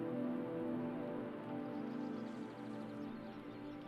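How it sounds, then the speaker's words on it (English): Steady rain falls in the video game Kentucky Route Zero, a dense continuous patter on a surface with a soft low musical drone underneath, no talk. "Rain washed their sweat into the dirt."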